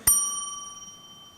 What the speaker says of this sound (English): since the bell has rung